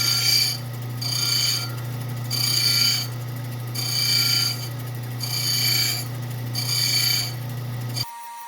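A faceting machine grinding a gemstone preform: a steady motor hum under rhythmic rasping swells that rise and fall about once a second as the stone is worked against the lap, stopping abruptly near the end.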